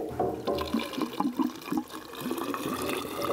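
Diesel fuel pouring into a mini excavator's fuel tank, a close, gurgling liquid fill with uneven bubbling pulses over a few seconds.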